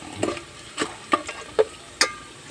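Onions and garlic sauté in a pan for pancit, with a soft background sizzle broken by about five sharp scrapes and clinks of a utensil stirring against the pan.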